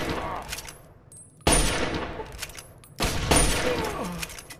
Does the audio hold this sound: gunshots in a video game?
yes